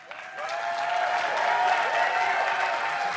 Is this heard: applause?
yes